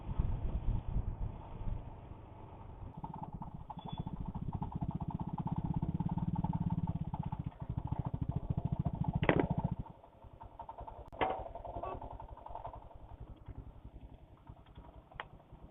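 A motorcycle ride, with a steady low engine rumble and road noise that is loud for about ten seconds and then eases to a quieter drone, broken by a few sharp clicks.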